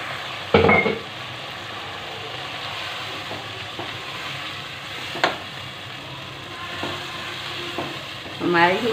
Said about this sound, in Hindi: हमारी ये आलू की सब्जी को भूनते हुए 10 से 15 मिनट हो गए हैं